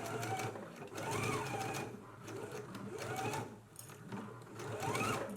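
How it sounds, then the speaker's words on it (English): A sewing machine basting dress fabric in place runs in several fast bursts of rapid stitching, close and clear, with short pauses between runs. "let's go ahead and baste this in place."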